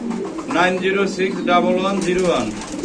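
Fancy pigeons coo in low, throaty, repeated calls close by, overlapping one another under faint background noise, at a home pigeon loft in Jatrabari, Dhaka.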